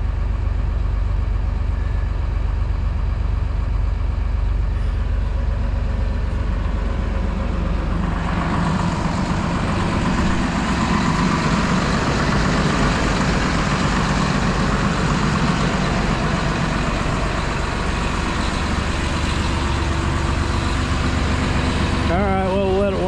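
Caterpillar 336E excavator engine idling and warming up after a check-engine DPF fault, a steady low rumble throughout that grows denser partway in, with a voice talking over it.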